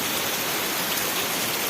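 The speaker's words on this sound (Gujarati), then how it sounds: "આજે ગરમી બહુ હતી, એનો છે વરસાદ" Rain falls steadily on a Gujarat village after a hot day, a dense, even hiss that holds without a break and has no talking over it.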